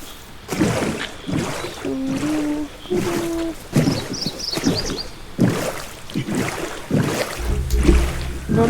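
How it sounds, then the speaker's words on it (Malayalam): A boat moves across water in a video game, giving a steady run of rhythmic splashing strokes roughly every half second, with a few short tonal blips along the way. "ഈ ബോട്ടിൽ കയറി."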